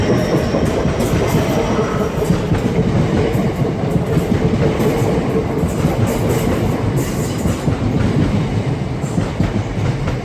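A Slade Green passenger train pulls out of Charlton station, its loud, steady rolling rumble and rhythmic wheel clatter carrying on throughout with no talking.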